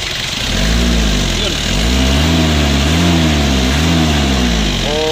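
A 1994 Isuzu Panther short engine runs close up, its revs rising and falling in slow, repeated waves over a constant low rumble.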